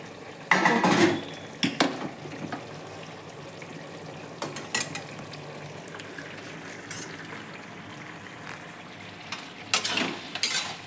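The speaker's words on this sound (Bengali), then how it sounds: "এখন ঢাকাটা তুলে দেখাচ্ছি" A cooking-pot lid lifted off a pot of simmering vegetables, with sharp metallic clinks and clatters of lid and utensils scattered over a soft background sizzle, no talk.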